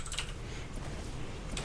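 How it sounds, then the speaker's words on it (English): Quiet, close computer keyboard typing, a soft patter of key clicks over low background hum with no talking. "Okay, I was typing"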